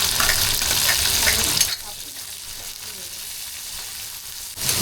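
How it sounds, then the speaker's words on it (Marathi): Curry leaves, a green chili and garlic cloves hit hot oil in a pan with a loud burst of sizzling that quickly settles into a quieter, steady frying hiss, then flares again at the end. "त्याच्यात कढीपत्ता, एक हिरवी मिरची आणि लसणाच्या पाकळ्या आपण टाकून घेऊया."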